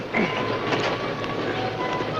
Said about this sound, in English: Sounds like a train now.